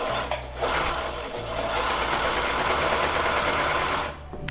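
A Consew industrial sewing machine stitches through two plies of material, running in a steady, fast continuous whir for several seconds with a brief start and stop at the edges, close and alone.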